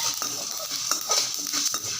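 Sesame seeds dry-roasting in a pan over a low flame for tamarind rice, stirred steadily with a spoon, giving soft scraping and rattling with a faint sizzle throughout and no voices.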